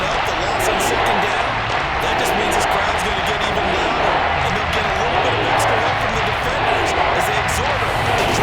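Stadium crowd roar at Arrowhead for a Kansas City Chiefs home game against the Buffalo Bills in Madden 23, a steady, loud wash of noise that holds throughout the clip.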